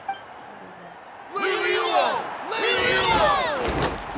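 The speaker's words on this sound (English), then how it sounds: "Hear that? Exhilarating cheers of the crowd." A video game crowd roars and cheers in two loud swelling waves after a quieter stretch, with a busy, game-like mix of voices and noise.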